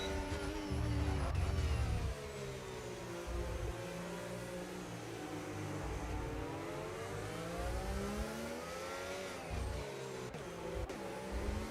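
A Formula 1 race car in the F1 25 video game, Mexico circuit, overtaking with DRS open: steady, loud high-pitched engine whine with shifting pitch as the car pulls past, sustained throughout under faint background game sound.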